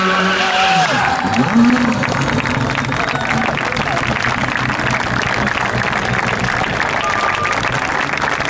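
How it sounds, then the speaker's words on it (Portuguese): A crowd at the Motorshow Porto 2018 rally event applauds in a steady, dense wash of clapping that stays loud and continuous throughout, with faint voices mixed into the noise. "Não se cansem de bater palmas."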